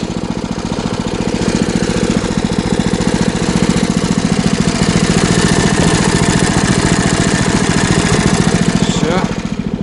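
A motorized snow tow dog's small engine drones loud and close as it pushes through deep snow on an open lot, a steady buzzing rumble with rising and falling strain throughout.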